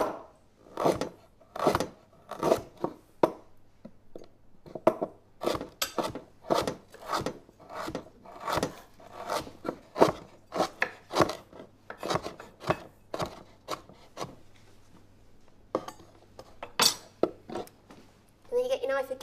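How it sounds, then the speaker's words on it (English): Fresh ginger sliced thinly with a knife on a chopping board: a long run of crisp, rhythmic cuts, roughly two per second, close and clear, with a brief pause midway and a person talking over parts of it. "if it sits flat on your board, you slice it as thinly as you can"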